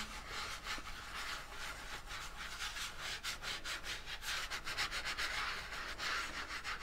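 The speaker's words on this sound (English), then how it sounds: "I'm gonna take my hands to rub it in." Steady rhythmic strokes of hands rubbing paint into canvas sweep back and forth across a rough surface, a dry scratchy swishing that repeats quickly and evenly, with no voices.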